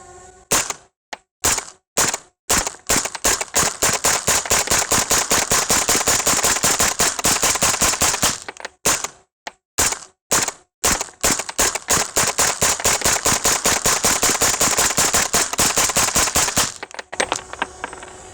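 A 300 Blackout rifle fires a full 30-round magazine through a suppressor, sharp rapid shots in quick strings with a few short breaks, loud and close, and no talking.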